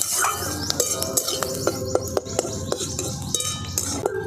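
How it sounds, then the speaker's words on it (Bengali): Asafoetida and curry leaves being stirred in a pan for puffed-rice pulao, with a spatula clinking and scraping against metal in an irregular rhythm over a steady sizzle. "হিংটা দিয়েও আমি ভালো করে একটু নেড়ে নিচ্ছি।"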